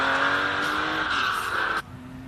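A Porsche 914 classic car on a hillclimb run gives a loud, sustained engine drone with a steady pitch close by, then cuts abruptly to a much quieter hum near the end.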